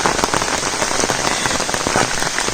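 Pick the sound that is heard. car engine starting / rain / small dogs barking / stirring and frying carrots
rain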